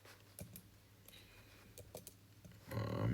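Quiet computer keyboard typing in scattered soft clicks and short bursts, ending in a louder busier stretch where other noise builds over the keys.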